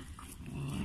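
A Kangal mix puppy growls up close in one short, low, rumbling burst that swells toward the end, with no voices.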